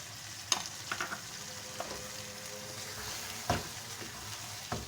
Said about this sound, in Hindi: 6 से 7 मिनट के लिए भूनेंगे हम लोग, ताकि गोश्त थोड़ा और ड्राई हो जाए हमारा